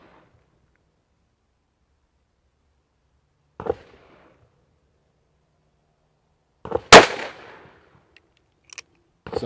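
Booming shots from a Cimarron BadBoy lever-action rifle firing 260-grain rounds outdoors, a single blast, a pause, then a louder report with a ringing tail and a couple of quieter metallic clicks of the lever action.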